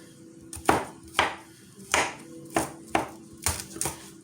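Knife chopping onion on a cutting board, about nine crisp, evenly spaced thuds, close and clear, with no talking.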